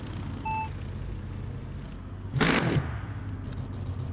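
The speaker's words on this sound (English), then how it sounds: "Beeping again." A short electronic beep alert from the Le Mans Ultimate racing game, a clean tonal chirp near the start, followed by a louder broadband burst over a steady low engine-like hum.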